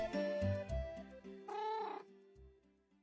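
A cat in a Minecraft game meows once, a short drawn-out call in the middle, amid soft tonal game sounds and low thumps, fairly quiet overall.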